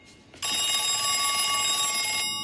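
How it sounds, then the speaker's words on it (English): A telephone in a TV show scene rings once, a loud sustained electronic ring that starts abruptly after a quiet moment and cuts off near the end. "the phone rings"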